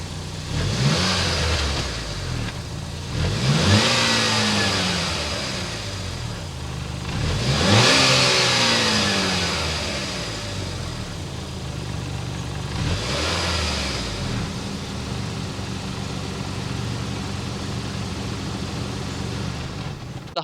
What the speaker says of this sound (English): Start it up and hear that exhaust note.